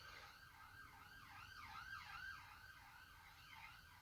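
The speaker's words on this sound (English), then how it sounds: "I do apologise for the siren in the background." A wailing siren rises and falls repeatedly in the distance, steady and continuous with a low rumble of traffic underneath.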